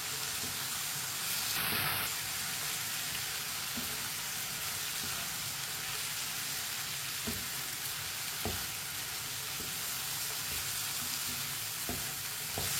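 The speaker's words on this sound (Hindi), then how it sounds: "कद्दू को मिक्स कर लेंगे।" Chopped bottle gourd frying in a pan gives a steady, close hiss and sizzle throughout, with soft clicks and scrapes as it is stirred and one brief high squeal early on.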